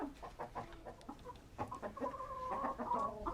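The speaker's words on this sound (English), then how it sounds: "All of the chickens are hiding out here in the coop in the shade." Chickens cluck and murmur inside a shaded coop on a hot day, several birds overlapping in a close, busy chorus that grows a little louder toward the end, with no talking.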